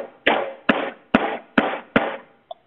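Five heavy pounding thumps come at a steady, slightly uneven rhythm about half a second apart, each a loud impact with a short rumbling decay, ending with a faint small knock.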